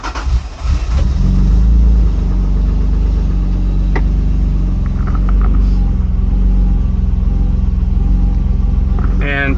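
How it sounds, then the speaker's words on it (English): A turbocharged Honda NSX with an aftermarket MoTeC ECU cranks and fires at close range, then settles into a loud, steady rumbling idle with faint clicks and light revving toward the end. "let's go ahead and give this car a start"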